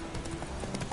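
Hoofbeats from Roach, the horse in The Witcher game, clatter in a quick galloping rhythm for a brief moment, close and steady over faint background music.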